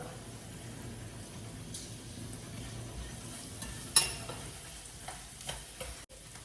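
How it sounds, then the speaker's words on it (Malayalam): Crushed garlic frying in a pan, the start of a stir-fry with jackfruit seeds and egg, gives a soft, steady sizzle with stirring scrapes and one sharper utensil clack partway through. "അപ്പം നമുക്ക് ഇതിനകത്തോട്ട് കുറച്ച് വെളുത്തുള്ളി ചതച്ചിടുക."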